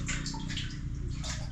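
Plenty of water flows steadily on a building site during the rainy season, a close, continuous splashing gurgle with a heavy low rumble underneath.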